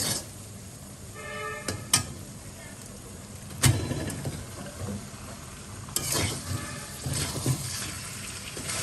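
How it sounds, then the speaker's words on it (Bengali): Chicken sautés with salt, chilli powder, turmeric, cardamom and cinnamon in a pan, giving a low crackling sizzle with sporadic scraping and knocks from stirring, mixed with some background voices and household noise. "এবার এটাকে সুন্দরভাবে কষিয়ে নিব ঢেকে ঢেকে কষিয়ে নিব"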